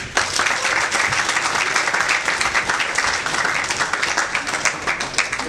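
An audience at a fan meetup in Lonavala gives a team a loud, dense round of applause that holds steady throughout with no talking over it.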